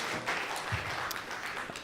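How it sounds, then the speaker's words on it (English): Church congregation at a Sunday celebration service giving a round of applause for visiting guests, a fairly faint, steady patter of clapping in a large room. "Let's give a round of applause to everyone who has decided to join us today."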